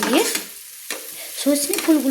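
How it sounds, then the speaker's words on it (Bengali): Drumstick flowers frying with potatoes in a pan over a medium-low flame, a soft sizzle broken up by a few scraping stirs close by, with no one talking. "দিয়ে আমি মাঝারি টু লো ফ্লেমে আমি দিয়ে সজনে ফুলগুলো ভেজে নিচ্ছি"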